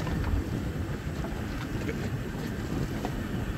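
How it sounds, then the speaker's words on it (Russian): A motorboat on open water off Stump Pass, Florida, drones as it heads straight toward the listener and turns, its engine rumble buried under steady wind buffeting on the microphone, with no talking. "Смотри, как катер на нас прям идет."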